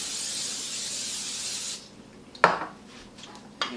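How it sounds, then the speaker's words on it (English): Cooking spray hisses steadily into a 9 by 13 baking dish for almost two seconds, then stops, followed by a couple of sharp knocks as the can or dish is handled. "Just going to spray it."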